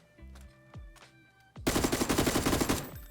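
A few faint clicks and thuds, then a sustained burst of rapid automatic rifle fire in PUBG rattles continuously for over a second, loud and close.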